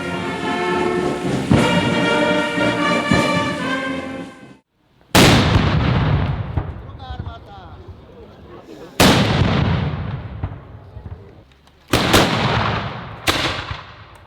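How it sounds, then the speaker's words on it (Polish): Ceremonial salvos from historical firearms and cannons ring out at an outdoor Third of May celebration: a sustained burst of gunfire, then four loud, booming cannon blasts spaced a few seconds apart, each with a long rolling echo. "grupa rekonstrukcyjna Amatum oddała salwy z broni historycznej i armat"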